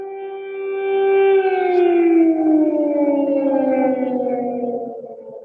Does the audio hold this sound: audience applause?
no